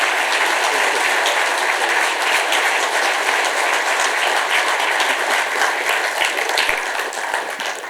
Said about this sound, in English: So give a round of applause to Larry Nelson.